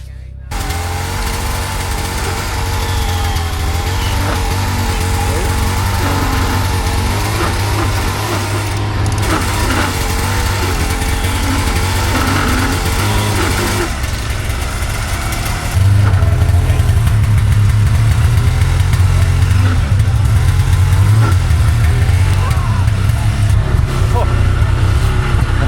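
A snowmobile engine runs steadily through a backcountry blizzard, with a low continuous drone that grows louder and rougher partway through as it revs, while people talk nearby.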